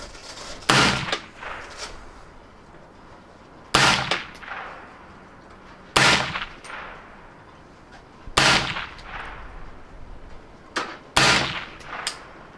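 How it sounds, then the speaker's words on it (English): Five loud suppressed 5.56 rifle shots through a DDC Diligent Defense Enticer S suppressor, fired at an outdoor range, each a sharp crack with a brief decaying tail, spaced a couple of seconds apart with no talking. "These are the first shots I'm taking with the can on this gun."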